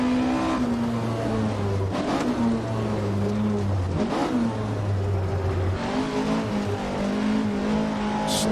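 A rally car in the Richard Burns Rally game on a wet stage, its engine revving up and down through the gears with a steady droning tone, short tire squeals, and bumps.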